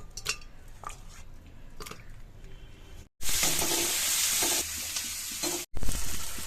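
Mutton curry is stirred in a frying pan after garam masala goes in, close scraping and stirring at first, then a loud steady sizzle and frying that drops out briefly before resuming.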